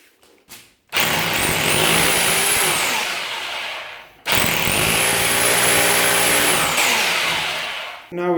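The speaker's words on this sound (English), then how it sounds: "Let's put it now on hammer drilling." A Parkside hammer drill, model PBH 1050 B2 or PBH 1500 D4, hammer drilling into brick in two loud bursts of roughly three seconds each, with a rattling impact texture over the motor whine and a short pause between.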